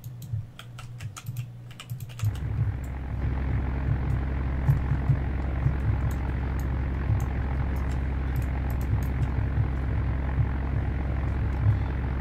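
A large bomber aircraft in the Roblox game Naval Warfare gives a steady, droning propeller-engine hum that rises in after a quiet start and holds evenly, while rapid computer-keyboard typing clatters over it throughout.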